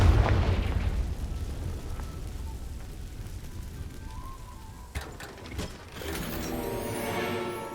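A Confringo spell explosion in the video game Hogwarts Legacy opens with a loud, deep blast that decays into a rumbling, crackling tail, with clanking mechanical rattles and a rising whoosh afterward.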